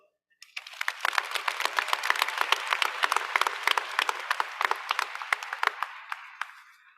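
A graduation audience breaks into applause for a speaker, many hands clapping densely and loudly for several seconds before tapering off.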